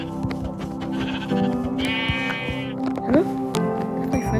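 Minecraft sheep bleat in quick succession, loud and close, with a longer wavering bleat in the middle over a busy game soundscape and a speaking voice.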